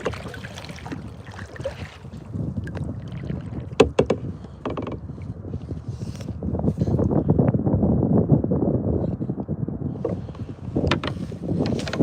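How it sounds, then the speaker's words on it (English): While someone fishes from a kayak on open water, wind gusts buffet the microphone in a steady, rushing roar that rises and falls. It goes on for the whole stretch, with a few sharp knocks, and no one speaks. "There's the wind again."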